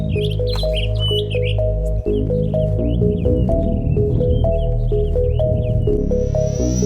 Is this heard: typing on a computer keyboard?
no